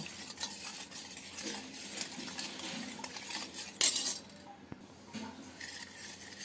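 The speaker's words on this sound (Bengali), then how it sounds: "এখন দিয়ে দিচ্ছি 2 টেবিল চামচ চিনিটাও আমি দুধের সাথে ভালোভাবে নেড়ে চেড়ে মিক্স করে নেব" A spoon stirs sugar into milk in a pot, scraping and clinking against the metal in a steady rhythm, close and clear, with one sharper clink midway.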